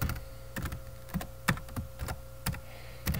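Keys clacking on a computer keyboard while programming code is entered, a steady run of distinct close taps with small pauses between them, and nobody talking.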